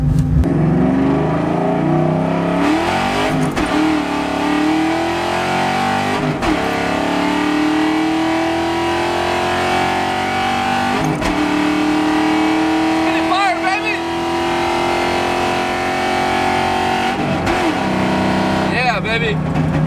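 A car with a stage 2 clutch pulls hard through the gears, its engine note rising steadily in long sweeps, broken by brief gear-change dips, loud and close from inside the cabin.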